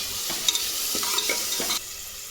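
Country curry leaves dropped into hot oil with browned fried onions, giving a loud, steady crackling sizzle with a few bursts of spitting, close and continuous before easing slightly at the end.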